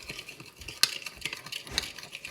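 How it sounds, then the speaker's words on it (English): A spoon stirs onion powder and seasonings in a bowl, giving soft scraping and light clinks with a couple of sharper taps, quiet and close. "And then you're going to stir this up."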